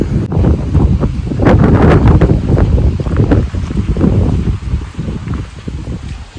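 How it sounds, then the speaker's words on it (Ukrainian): Strong gusting wind on a mountaintop by Uzhhorod Castle, Ukraine, buffets the microphone with a heavy, low rumbling roar that rises and falls continuously, loud and close, with no voices. "Тут дуже вітряно, бо ми знаходимось вгорі, на горі."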